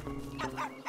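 A cartoon dog barks once or twice at a dog park, a short, close, fairly quiet yip standing alone without talk.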